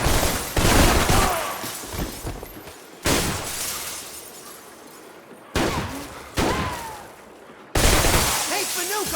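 Gunfire from the video game Max Payne 3, loud crackling bursts and shattering impacts in several sharp onsets with decaying tails, under shouting voices.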